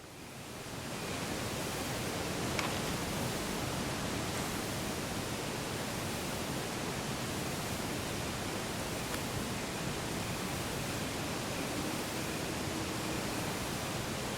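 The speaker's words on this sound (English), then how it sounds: "Raging waterfall." A raging waterfall in Resident Evil HD Remaster gives a steady, dense, hissing roar that holds at an even level throughout, with no pauses.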